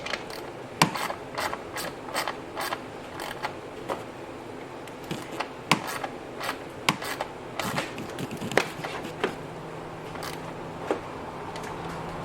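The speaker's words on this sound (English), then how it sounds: "we'll snug up the bolt underneath where the throttle body goes" A hand ratchet snugs a bolt on the throttle body bracket of a 2007 Nissan Versa, giving bursts of rapid clicking with short pauses and a few sharper clacks, close and clear with no voices.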